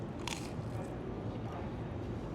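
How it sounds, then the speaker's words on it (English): Fresh theme park french fries crunch as they are bitten, giving a sharp crisp snap near the start followed by faint chewing crackles over low background noise. "Did you hear that crunch?"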